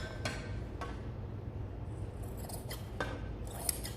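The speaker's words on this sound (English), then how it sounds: "now I'm about to cut it right on those marks" Scissors snip through drapery fabric along marked lines, a few crisp, separate cuts spaced irregularly over a quiet low room hum, close but soft.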